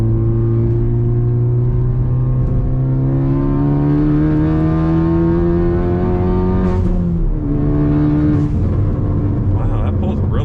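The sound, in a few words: 2022 Mk8 VW GTI accelerating with exhaust burbles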